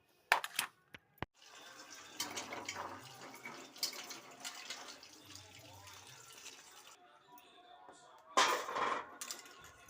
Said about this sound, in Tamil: தண்ணியில் நல்லா வாஷ் பண்ணிவிட்டு எடுத்துக்கலாம்.